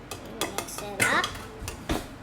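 Spoons clink and scrape against a glass or jug while a garden fresh homemade drink is stirred, a quick run of several bright metallic taps and rattles close by.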